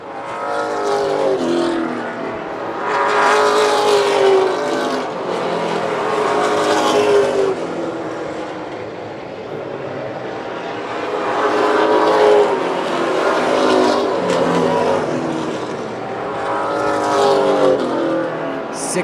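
Race cars lap an oval track at the Coastal 200, their engines swelling loud as each passes near and fading between, in repeated waves of roar, with a faint voice underneath.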